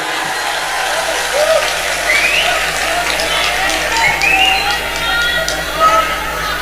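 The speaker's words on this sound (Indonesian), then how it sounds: "Tepuk tangan untuk Indonesia." Audience applause and crowd noise at an Indonesian religious lecture by a kyai, a steady wash of clapping with murmuring voices, moderately loud throughout.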